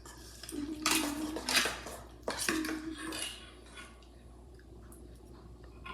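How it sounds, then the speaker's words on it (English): A spoon scrapes and stirs egg salad against the sides of a bowl in several quick, close rounds of metallic clinking and scraping, then fades to quiet. "If you use the spoon, you can scrape everything from the side of the bowl and incorporate everything together"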